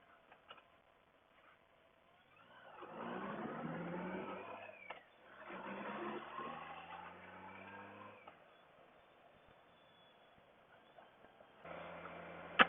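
A trike engine drives past outdoors, rising from near-quiet to a steady mid-pitched drone, fading, then swelling again before dropping away, with light ticking and clicks in between.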